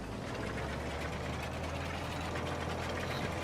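Farm vehicle engine in Farming Simulator 25, a loud, steady low drone with an idling, knocking character that runs unbroken and close throughout.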